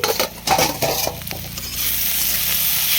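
Bottle gourd, potato peel and neem leaves frying in a pan, loud close sizzling with quick stirring scrapes and utensil clatter over the first second and a half, then a steady even hiss.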